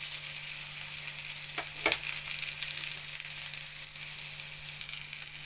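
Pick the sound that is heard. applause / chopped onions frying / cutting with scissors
chopped onions frying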